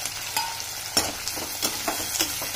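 Onions fry in a pan toward light brown, a continuous close sizzle broken by irregular crackles and occasional stirring scrapes, with no talking.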